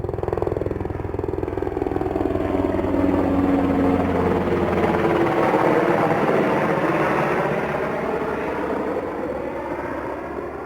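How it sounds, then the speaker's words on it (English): A military helicopter's steady, loud rotor-engine drone hangs overhead, swelling slightly mid-way and then easing as it passes, with no voices. "That's some sort of military helicopter."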